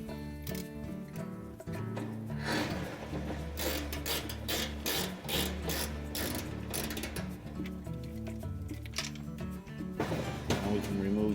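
Screw being worked loose on a Frigidaire dryer's rear drum bearing bracket, with repeated ratcheting clicks and mechanical rattling up close, fairly quiet and steady throughout.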